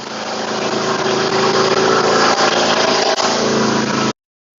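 A John Deere garden tractor engine runs steadily and loudly up close, a continuous droning hum with slight revving variations that cuts off abruptly near the end, with no talking.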